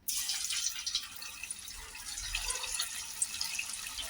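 Soybeans dropped one at a time into hot oil give a faint, continuous crackling sizzle with scattered small pops, close by and otherwise quiet.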